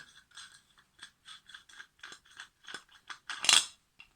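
Metal part of a Zebra stainless camping kettle being unscrewed, a quick run of small dry clicks and scraping ratchety ticks in a close, quiet space, ending in a slightly louder metallic rasp.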